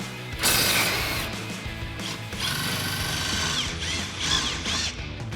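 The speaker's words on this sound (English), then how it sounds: "We're going to need a 15 millimeter socket on an impact" An impact wrench with a 15 mm socket removes shock mounting bolts on a Ford F-150 during a lift kit install, giving a close, loud, buzzing whir in several bursts.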